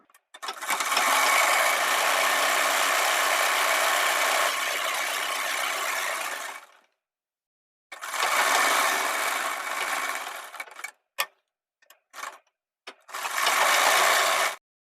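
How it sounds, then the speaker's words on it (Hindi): Sewing machine stitching around the edge of a kurti piece, loud steady whirring runs of several seconds, then pauses and short bursts before a final run. "तो यहाँ से हम सिलाई को स्टार्ट करेंगे"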